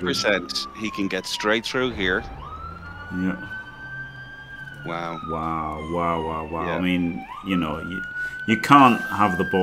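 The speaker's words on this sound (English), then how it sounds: "sorry for the sirens going here, if you can hear that" An emergency siren wails outside with long rising and falling tones, clearly audible beneath ongoing conversation between two people that runs throughout.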